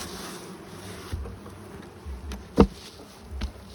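Bees buzz around high-level beehives in a backyard apiary, a faint, steady hum with a few brief louder passes close by, and no talking.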